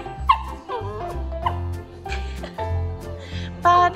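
A Shetland sheepdog yips, whines and howls in a sing-song way over a looping children's song, with short bursts spread across four seconds and a louder cry near the end.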